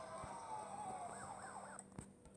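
Police car siren from the mobile game Faily Brakes, a wailing tone sweeping up and down at moderate volume over steady game background noise, ending with a couple of sharp thumps.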